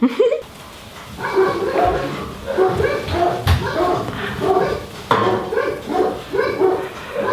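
Several dogs bark continuously in the background, a steady overlapping chorus of barks at moderate distance, with someone talking over them.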